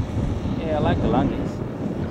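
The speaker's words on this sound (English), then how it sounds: "The wind got up just for you." Steady outdoor wind buffets and rumbles across the microphone throughout, while a person talks over it.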